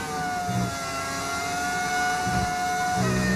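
A V10 racing engine in the video game F1 25 whines at a high, steady pitch, dipping briefly and climbing again, with low thumps underneath; no one speaks.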